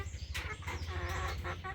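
A rooster and a hen waiting for feed cluck close by in quick, busy bursts that overlap one another throughout the moment.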